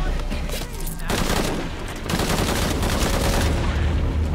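Dense, loud gunfire in a Shadow of the Tomb Raider firefight, rapid automatic bursts and overlapping shots pounding almost continuously, with a brief dip near the first second before the barrage resumes.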